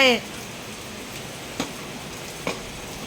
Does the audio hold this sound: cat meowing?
no